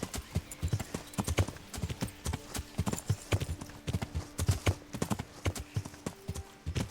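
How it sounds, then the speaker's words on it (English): Rhythmic clip-clop of horse hooves trotting steadily in the video game Kingdom Come: Deliverance, close and fairly loud, with a constant faint background hum. "Call my horse so we don't have to run all the way back there."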